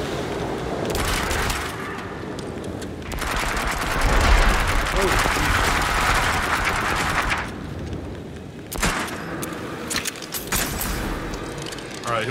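Shotgun blasts and gunfire in The Dark Pictures Switchback VR video game, loud and sustained, with dense crackling bursts running for several seconds, a brief lull, then more firing.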